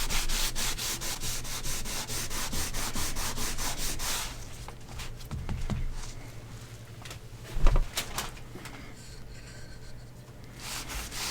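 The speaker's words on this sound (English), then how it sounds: "I am going to start just rubbing this in the same direction as the wood grain" A rag rubs finish into wood along the grain in quick, rhythmic back-and-forth strokes, close and steady at first, then slowing into scattered softer passes with a few knocks.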